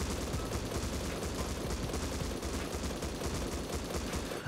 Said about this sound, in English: Here's an M249 for fun with the rate of fire boost.